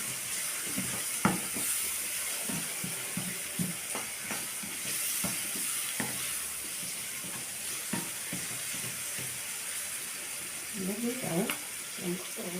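Rice being stir-fried and stirred in a pot with pepper and seven-spice, a steady sizzle under scattered scraping clicks and a few soft voices nearby.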